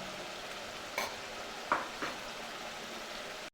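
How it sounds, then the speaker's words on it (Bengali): Onion paste with ginger-garlic paste sizzles quietly in a pan for a potato chicken curry, broken by a few soft scrapes of a spoon, faint and close, with no speech. "আদা রসুন বাটা দিয়েও পেঁয়াজ পেঁয়াজ বাড়াটাকে ভালোভাবে কষব"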